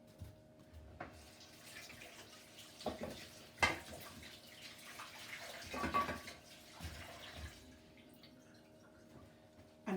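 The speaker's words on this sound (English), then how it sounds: "And then what you do is wash your hands." Hands being washed under a running kitchen tap after handling gluten-free shortbread dough, with a faint, uneven trickle and splashes rising and falling in several bursts, no talking.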